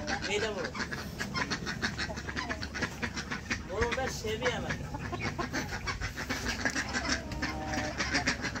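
Village desi chickens with chicks cluck and squawk close by in a noisy yard, with voices talking among them.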